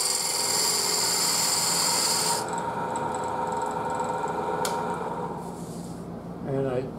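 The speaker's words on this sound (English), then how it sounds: "I'm using the spindle gouge for this." A spindle gouge cuts a wooden bowl spinning on a lathe, giving a loud continuous whirring scrape that eases after a couple of seconds into a softer steady hum.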